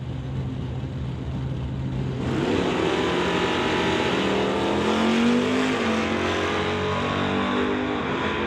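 A Super Combo drag racing car launches down the lanes at a drag strip, roaring loudly with a rising, revving engine note that sweeps upward and trails away, with no talking.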